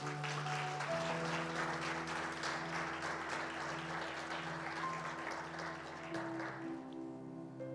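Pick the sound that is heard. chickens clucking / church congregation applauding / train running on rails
church congregation applauding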